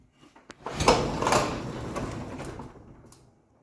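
A heavy door on newly fitted springs rumbles and rolls as it is moved and balanced, a single sustained scraping slide that fades out over a few seconds.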